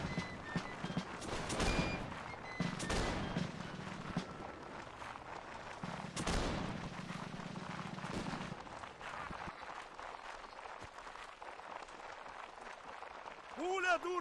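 Cannon and musket fire in the Napoleonic Wars video game: a few loud booming blasts and scattered shots over a battlefield din, with players talking over the action.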